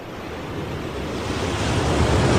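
Ocean waves roll and wash in a steady broadband roar, swelling slightly louder over a couple of seconds, with a windy, hissing quality and no voices.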